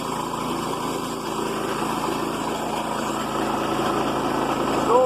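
A Woodland Mills sawmill runs steadily while cutting wood, giving a continuous small-engine drone with a faint high whine near the end.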